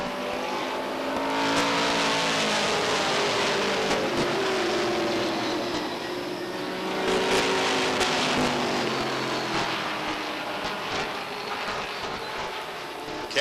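Race cars roar around the oval at Beech Ridge Motor Speedway in 1991, a steady loud engine drone with rising and falling surges as the pack passes, no voices over it.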